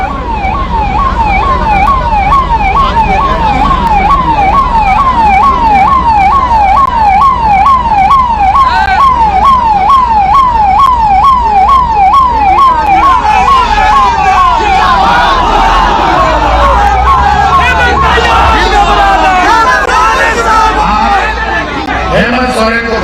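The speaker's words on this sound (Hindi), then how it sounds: "जरा यहां एम्बुलेंस फंस रहा है, इसको एम्बुलेंस को फंसने ना दे, एम्बुलेंस को निकाल दो" An ambulance siren wails in a steady, rapid up-and-down cycle while the vehicle is stuck in a dense crowd at a political gathering in Ranchi, loud and close, with someone speaking over it and crowd noise building later.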